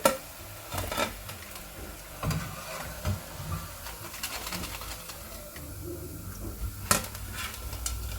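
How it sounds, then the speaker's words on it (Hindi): Buff vada potato patties frying in hot oil make a continuous crackling sizzle with occasional utensil knocks and a few sharper clatters, close by, with no speech. "तो ऐसे ही हम सारे बफ वड़ा को फ्राई कर लेंगे"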